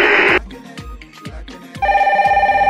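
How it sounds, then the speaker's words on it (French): A telephone rings with a warbling electronic bell, stopping briefly amid percussive thumps before ringing again loudly and steadily. "Oh là, mais c'est le téléphone VIP"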